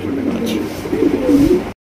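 Pigeons for sale at a market coo in short, close, fairly loud bursts that swell toward the end, with a voice speaking over them.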